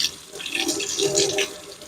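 Tap water runs steadily into a sink, splashing over large king crab legs as they are rinsed clean, a continuous close hiss with shifting splashes and no talk.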